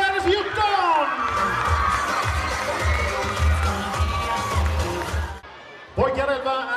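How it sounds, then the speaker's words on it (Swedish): A crowd at Kärra HF's handball season-ending celebration cheers and applauds loudly for the girls' team leaders, with whoops and shouting voices carrying on steadily before a brief lull and a fresh burst. "Applåder till våra duktiga ledare. Applåder flickor 14!"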